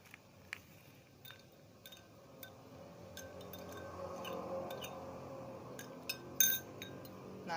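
Glass containers of acid and base solutions being shaken, giving scattered light clinks and taps of glass at irregular intervals over a quiet background, with a brighter cluster of clinks near the end.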